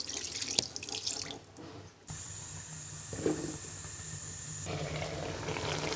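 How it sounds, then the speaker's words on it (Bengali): Water pours into a pan of koi fish cooking in oil, a steady rushing splash that shifts partway through and continues evenly, loud and close with no talk. "এবার পরিমাণ মতো পানি দিয়ে ঢাকনা দিয়ে ঢেকে মাছটাকে রান্না করে নিব।"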